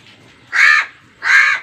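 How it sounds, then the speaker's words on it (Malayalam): Two loud, close crow caws, harsh and evenly spaced about half a second each, with quiet between them. "ഞങ്ങൾ എന്ത് പറഞ്ഞാലും കാക്ക ഒപ്പം കൂട്ടം കൂടുണ്ട്."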